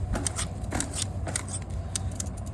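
Cracked frame of a Scor 4060 LT mountain bike crunches and creaks under load, a close series of sharp, irregular crackling clicks repeating throughout.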